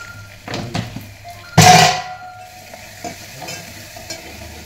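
A sudden loud sizzle as spices, turmeric and asafoetida hit hot oil for kadhi, bursting sharply and then fading into a quieter crackle amid faint kitchen clatter.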